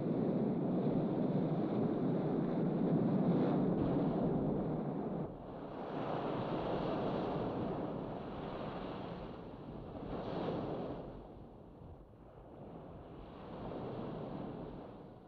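Inshore waves break and churn in the shallows of a barrier reef, a broad rolling roar that swells and eases in slow surges over about fifteen seconds, with some wind noise and no voices.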